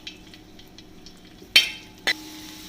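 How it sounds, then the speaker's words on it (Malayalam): Raisins drop into hot ghee in a pan for Kerala semiya (vermicelli) payasam, giving two sharp bursts of sizzle over a quiet background, the second settling into a steady faint fry. "നമുക്കിതിലേക്ക് നമ്മൾ എടുത്ത് വെച്ചിരിക്കുന്ന ഉണക്കമുന്തിരിങ്ങ ഒന്ന് വറുത്തെടുക്കാം"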